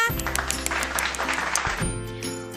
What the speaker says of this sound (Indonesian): Tepuk tangan untuk Siska.